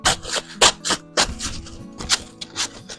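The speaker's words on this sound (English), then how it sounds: "the easiest way to cut sandpaper is take a hacksaw blade" Hacksaw blade slicing through a sheet of sandpaper, a series of short scratchy rasps in quick irregular bursts, close up and fairly loud with no voices.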